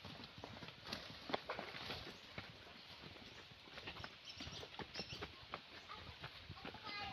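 Horses clip-clop along a trail near a waterfall, the hoofbeats faint and scattered under wind and rushing background noise, with a little distant talk.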